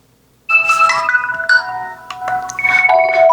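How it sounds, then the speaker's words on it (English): A phone app plays a ringtone loud and close after a short silence: a bright, melodic electronic tune of repeating tonal notes that carries on steadily without any talk over it. "This is the phone ring."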